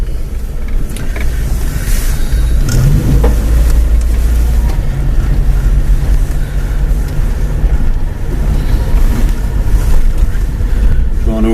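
A 1987 Vauxhall Astra 1.3 MK2 with automatic gearbox pulls away and drives, its low engine drone steady and loud under heavy wind buffeting on the microphone, no one talking.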